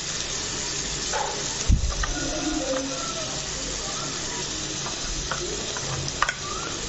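Ivy gourd fry stirred in a pan with turmeric and salt, a constant sizzling hiss broken by scraping stir strokes and a couple of sharper knocks of the spoon against the pan.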